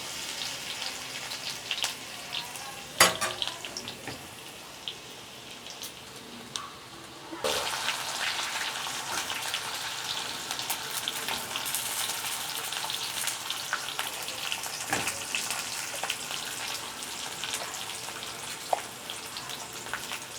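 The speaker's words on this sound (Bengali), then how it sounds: "এর মধ্যে তেলের মধ্যে আমি একটু রসুন ফোড়ন দিচ্ছি" Garlic tempered with black cumin seeds in hot oil in a kadai, a steady sizzle that grows louder and brighter partway through, with a few sharp clicks and pops.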